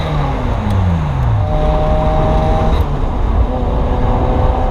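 A Ferrari F355 cruises on the highway, its engine a steady, loud, continuous drone heard from inside the car, with gliding tones shifting slowly and no talk.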